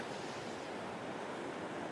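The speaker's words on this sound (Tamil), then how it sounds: "பாருங்க தண்ணி ஃபுல்லாக வந்துட்டு இருக்கு" Surplus water from the Sarabanga flooding into a residential area, heard as a steady broad rushing roar of flowing water, continuous and even, with no voices.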